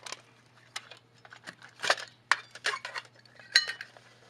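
A metal camping cook pot is handled, making scattered light clinks and knocks close by, quiet and irregular, over a faint steady hum.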